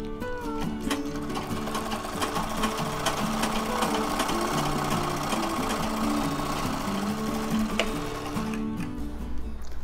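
A sewing machine runs continuously at close range, stitching a single-folded cloth edge with a steady, rapid mechanical chatter and gear-like hum that stops just before the end.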